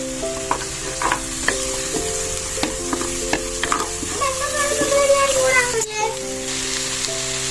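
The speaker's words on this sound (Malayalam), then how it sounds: "ഇനി ഇതിൽ പച്ചമണം മാറുന്നത് വരെ നന്നായിട്ടൊന്ന് ഇളക്കി കൊടുക്കണം" Spices, onion, green chili and crushed garlic sizzle in a clay pot for chicken curry while a spoon stirs them, giving a steady frying hiss with scattered scrapes and clinks close by.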